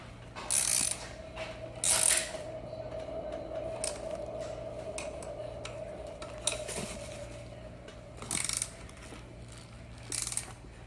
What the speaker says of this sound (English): I'm going to go ahead and just tighten that all the way up.